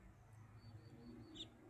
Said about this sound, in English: Got some doves up in the tree here.